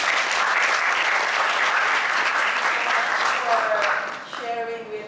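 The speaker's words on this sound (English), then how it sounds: "Let's give him a big round of applause." Loud, sustained audience applause following a talk at an agricultural big data presentation, a dense wash of clapping from a crowd that thins near the end as a few voices and tones emerge.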